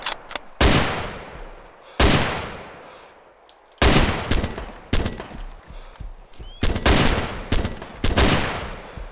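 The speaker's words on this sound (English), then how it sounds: "Keep shooting." Gunfire in DayZ Breaking Point during a firefight with a bandit, several loud sharp shots and short bursts, some rapid and overlapping, each followed by a decaying echo, with no talking.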